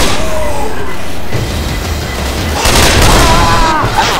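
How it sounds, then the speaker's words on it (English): Pipe bomb blasts in Left 4 Dead 2, loud booming bursts and crackling debris across a short stretch, with the heaviest blast near the end and game noise around it. "I'll throw the first pipe bomb."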